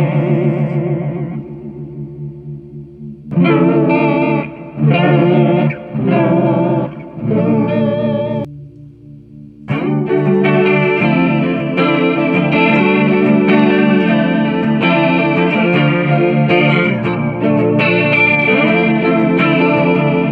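An electric guitar plays chords and riffs through a Walrus Audio Julia V2 chorus pedal's shimmering effect, with brief pauses between phrases before a sustained, swirling passage.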